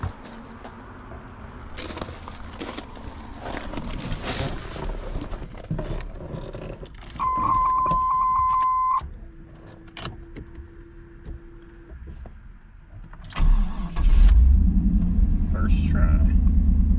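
A third-generation Camaro/Firebird engine, just fitted with a new fuel pump, cranks and catches near the end, then settles into a deep, steady idle rumble. Earlier come clicks and a brief electric whine, with someone talking at times.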